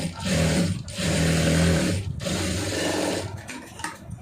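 A sewing machine stitches the lining of a blouse, running in close, loud bursts with short stops between them and no voices.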